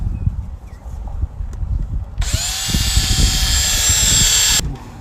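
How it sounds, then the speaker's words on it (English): A power drill drilling a hole whirs loudly for a couple of seconds, spinning up to a steady high-pitched whine before stopping abruptly, with low background rumble throughout. "about right here is where I'm going to want to drill 1 hole"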